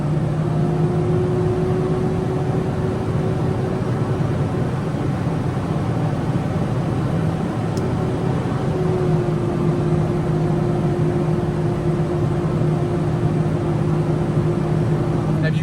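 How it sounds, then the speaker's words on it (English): A heavy truck loaded with rebar labors in a low steady drone with a strained hum, continuous and close, no talking. "I have a lot of rebar on the truck right now, so the truck's struggling."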